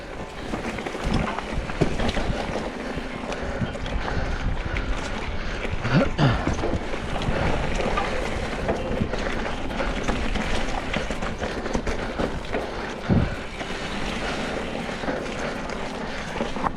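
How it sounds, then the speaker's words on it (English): Wind buffets the microphone during a mountain bike ride on a track park trail, a loud continuous roar with gusty swells and occasional thumps from the bike. "Bloody wind."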